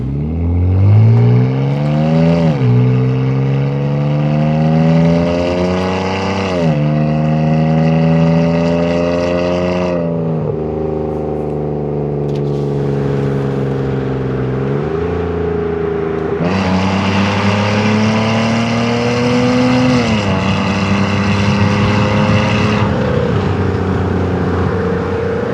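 A 2002 BMW E39 engine pulls through the gears on a drive, loud and steady, with several rising revs and shift dips and a constant drone underneath.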